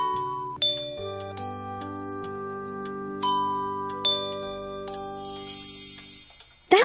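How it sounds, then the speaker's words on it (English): Bells chime in a Snow Queen fairy tale children's video game: a series of clear, bright strikes, each ringing on and layering into a sustained shimmering chord, with no voices. "you need to ring the bells."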